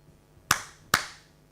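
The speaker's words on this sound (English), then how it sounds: "Try it again. Clap." Two sharp hand claps in a lecture room, about half a second apart, each crisp and close with a short reverberant tail, set against a quiet background.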